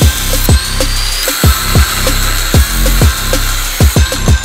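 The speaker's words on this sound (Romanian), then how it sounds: "cum am chinuit să tai o placă de fier groasă de 15 mm cu flexul" Loud angle grinder cutting a 15 mm thick iron plate, with repeated rhythmic strokes and sharp bursts of scraping, close up with no voices.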